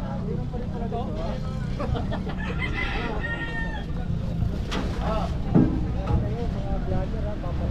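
A chicken clucks and crows amid a busy outdoor street-clearing operation, with people talking and a steady engine rumble throughout.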